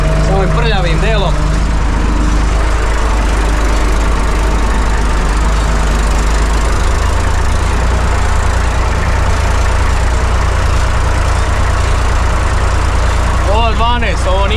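A tractor ploughing heavy, stony ground, its loud engine droning steadily for the whole stretch; a voice briefly cuts in at the start and near the end.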